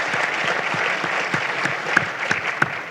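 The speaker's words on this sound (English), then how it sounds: "Round of applause." An audience at an energy pitching session claps steadily in a round of applause, a dense, moderately loud patter with a few sharper individual claps toward the end.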